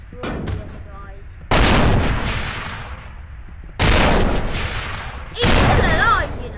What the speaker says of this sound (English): This call for a beam rifle.